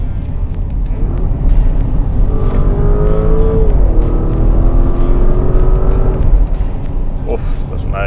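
A 2024 Porsche Cayenne at speed with the engine note rising under acceleration in Sport mode, a loud continuous rumble with road noise beneath; someone speaks over it.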